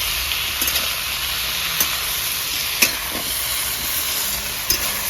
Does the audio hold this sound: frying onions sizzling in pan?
yes